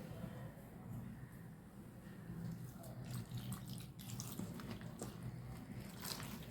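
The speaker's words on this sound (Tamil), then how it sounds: "இப்போ அடுத்து இதில் தண்ணி ஊற்றிடலாம்." Water poured into medhu pakoda batter in a bowl, a faint trickling and splashing with soft scraping and clinking of mixing, quiet and close throughout.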